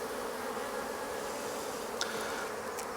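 Honeybees in an open beehive during an inspection hum in a steady, close drone, with a couple of brief sharper buzzes from bees passing near.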